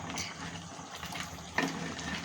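Crab curry stirred in a pan, a short stretch of soft scraping and light bubbling sizzle, close and fairly quiet, with no talk.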